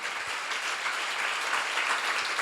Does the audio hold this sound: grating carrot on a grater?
no